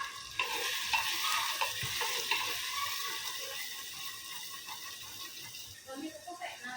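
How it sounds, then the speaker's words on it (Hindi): Masala spices sizzle and fry in a pan with dal while being stirred, a close, steady crackle with scraping stir strokes. Muffled voices are faintly present underneath. "मसाले को भूनो और दाल डालो"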